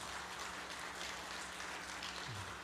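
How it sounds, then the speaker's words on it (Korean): A church congregation during a Sunday worship service gives quiet, sustained applause of encouragement, a soft, even wash of many hands clapping at a distance with no talk over it. "우리 박수로 위로 격려해 드리도록"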